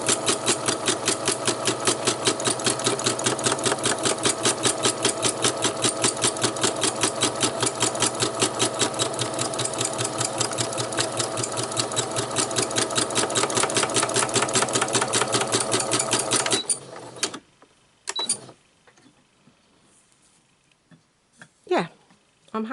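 A sewing machine stitches free-motion machine embroidery on fabric in a frame, running in a fast, steady rapid chatter for about seventeen seconds before stopping abruptly, followed by a few faint clicks and handling sounds.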